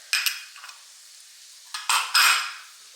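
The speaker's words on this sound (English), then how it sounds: "we just continue to stir that a little" A spoon stirs spices into meatless chili in a pot, making a few short, bright scraping strokes with pauses between them, close and fairly clear.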